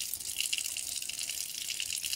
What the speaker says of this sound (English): I just put it in a strainer and just let it be in cold water.